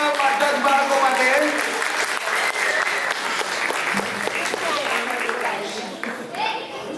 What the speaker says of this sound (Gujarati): એકવાર જોરદાર તાળીઓ બધા જ બાળકો માટે